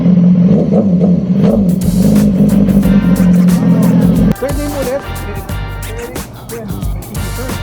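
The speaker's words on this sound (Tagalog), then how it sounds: "Sobrang solid din ang tunog nito pero sabi ng may-ari mas malakas na pag umaandar" A loud, steady engine rumble idles at first, then revving and clatter take over as the motor roars up and down nearby, with a voice faintly present.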